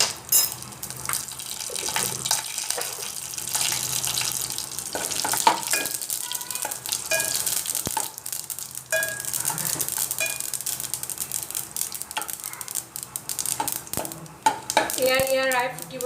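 Cumin and mustard seeds fry in hot oil in a home kitchen while preparing Punjabi kadhi pakora, giving a steady close sizzle with scattered crackles and sharp pops that grow busier toward the end.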